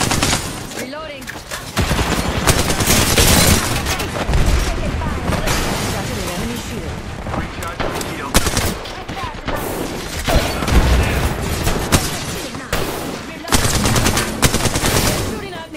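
Rapid automatic gunfire from a first-person battle royale shooter, Apex Legends in a ranked match, with dense bursts, sharp shots and booms filling the whole stretch, loud and close, with game voices mixed in.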